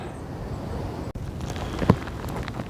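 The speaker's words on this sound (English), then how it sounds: "wet and windy doesn't begin to describe it up here on the tops" Wind and rain buffet the open moor tops along the Cleveland Way, a steady loud rushing hiss close to the microphone, broken by a brief dropout and a single sharp knock near the end.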